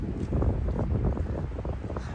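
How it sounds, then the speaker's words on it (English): Steady north wind blowing outdoors on a chilly day, a continuous low rumbling buffet of gusts against the microphone throughout, loud and close with no talk. "So a bit of a north wind out here today."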